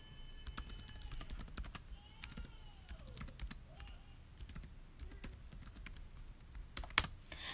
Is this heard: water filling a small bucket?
no